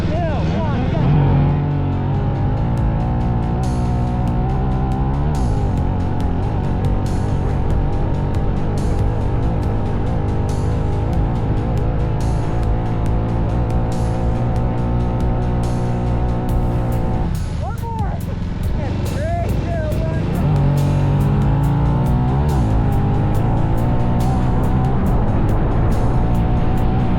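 A 250 two-stroke quad and a Honda 400EX four-stroke quad race across sand dunes, engines loud and close, revving and shifting in rising and falling whines, with voices shouting over them.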